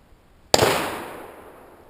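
A single CCI Stinger .22 round fired from a Ruger 22/45 pistol, one sharp loud crack followed by a decaying outdoor echo tail.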